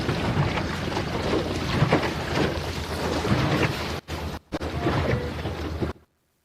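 ILCA sailboat racing at a masters world championship, tacking toward a mark: rushing wind buffets the microphone over water and hull noise, loud and continuous, with two brief dropouts before cutting to silence.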